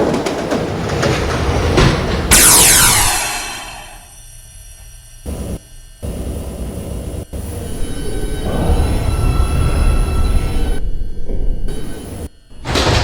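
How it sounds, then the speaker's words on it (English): An R142 subway train on the 6 local pulls into Saint Lawrence Avenue station in New York. Loud rumbling fills the clip, with a sharp wheel squeal early on, rolling railcar noise and door sounds as it stops. "There is a local train approaching the station."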